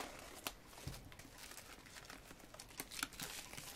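Plastic wrapping is torn and crinkled off a special edition album package, a quiet close run of soft crackles and small rips with a few sharper snaps.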